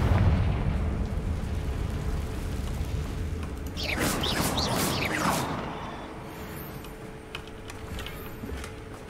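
A Confringo fire spell bursts inside a dungeon in Hogwarts Legacy, a low rumbling blast that swells midway through with crackling, whooshing flame before fading into a lingering rumble, heard alone with no talk.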